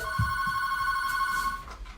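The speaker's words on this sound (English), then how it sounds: "Oh, my phone is ringing." A phone rings with a steady electronic tone held for about a second and a half before cutting off, fairly loud and close indoors with no one speaking.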